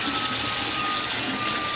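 A bathroom sink faucet runs steadily with good pressure while the shower is also on, producing a constant, loud, broadband rush of water with no pauses and no voices.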